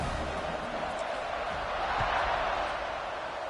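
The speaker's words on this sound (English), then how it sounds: "this crowd is buzzing after that last score" Stadium crowd in the NCAA 26 college football video game, a steady dense roar and buzz holding at a constant level throughout, with no distinct cheers or announcer voices over it.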